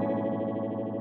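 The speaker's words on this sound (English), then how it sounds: "I like how this pedal goes to just about like a slapback echo kind of" A distorted electric guitar note run through a vintage pedal set to a slapback echo: a sustained, buzzy tone held for about a second, loud and unaccompanied, with no talking.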